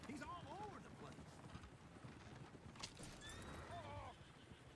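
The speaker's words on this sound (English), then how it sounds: "Oh, shit, the horses!" Horses whinny shrilly a few times over a rumbling outdoor bed with hoof clatter and wind in Red Dead Redemption 2, with people talking and shouting throughout.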